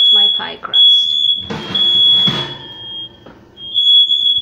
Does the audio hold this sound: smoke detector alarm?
yes